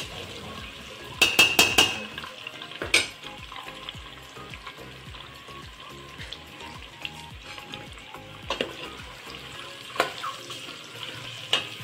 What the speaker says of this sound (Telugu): కొంచెం క్రిస్పీగా వచ్చేందుకు వేయించుకోవాలి ఎగ్స్ని.